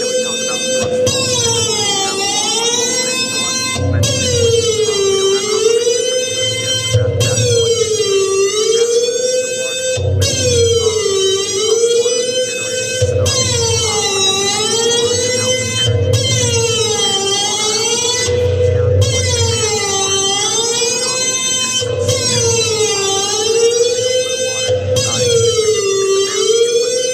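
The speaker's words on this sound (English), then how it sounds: "That's what Hawaii's tsunami warning sirens sound like" Hawaii tsunami warning sirens wail loudly, rising and falling in long repeating sweeps with a steady underlying tone and a low pulsing beat, continuous and without talk.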